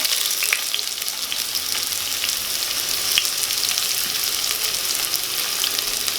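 Chopped onion sizzles as it drops into two or three spoons of hot oil in a heated pot while cooking Maharashtrian-style village chicken sukka, a loud, even crackle and hiss that fills the whole stretch.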